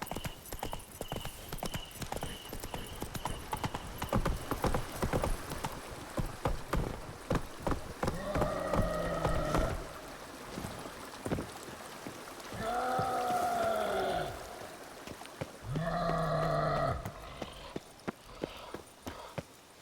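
Roach the horse's hooves clip-clop steadily on the ground in The Witcher 3, a continuous trotting rhythm up close, with brief bursts of a voice in between.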